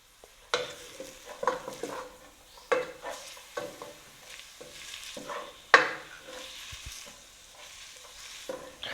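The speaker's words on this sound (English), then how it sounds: "Now you're just mixing with the ground beef." Minced ground beef stirred and fried in a pan for tacos, with a spatula scraping and pushing the meat in irregular bursts over a low sizzle, close and moderately loud, no talking.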